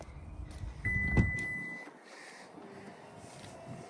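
A 2023 Acura MDX hands-free power liftgate opening after a kick under the bumper, heard as a soft electric motor hum with a brief chime-like tone, fairly quiet and close with no talking over it.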